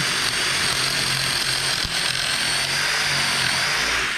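A power drill bores at an angle into a wooden shelf during wall mounting, a steady high motor whine running continuously and close up, with a brief knock near the middle.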